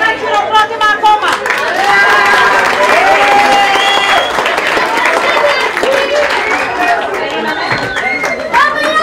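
Lively audience applause at a school World Poetry Day event in Trikala, loud clapping mixed with crowd chatter, cheering and voices throughout.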